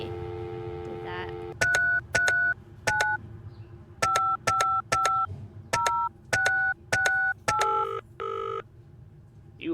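Telephone keypad dialing tones in a video game about alarm disarming, a rapid series of about a dozen short, evenly spaced dual-tone beeps over a low background hum, ending with a couple of longer tones.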